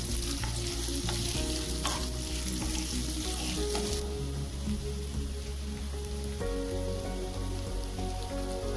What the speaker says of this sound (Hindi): प्याज को अच्छे से गोल्डन ब्राउन होने तक भून लेंगे।